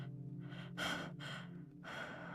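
A woman's breathy gasps and sighs from a character in the video game Path to Nowhere, several quick intakes and exhales close and soft, with no speech.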